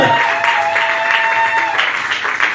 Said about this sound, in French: acclame plus fort pour la parole de Dieu